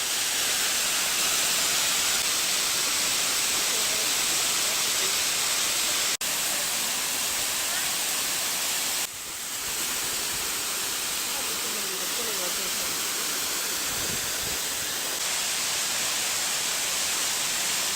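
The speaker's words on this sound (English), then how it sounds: "Very pretty waterfall." Waterfall in a cave area in Cuba: a steady, dense rush of falling water fills the scene, loud and constant throughout, with a brief sharp knock and a short dip partway through.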